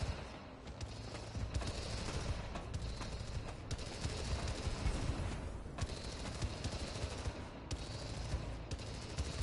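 Sustained gunfire from the video game Spider-Man: Miles Morales: dense, continuous automatic bursts and volleys with rapid cracks, loud and close, running steadily throughout with brief dips between bursts.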